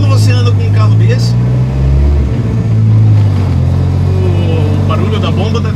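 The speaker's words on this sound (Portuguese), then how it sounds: "o barulho da bomba deve estar alto até para gravação. São duas bombas de combustível." A 1989 VW Gol Furgão with a 2.0 turbo engine runs steadily while its twin fuel pumps whine, a loud continuous mechanical drone close by with someone talking over it.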